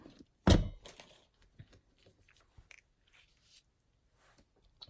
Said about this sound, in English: we'll punch that one out and then add this to our card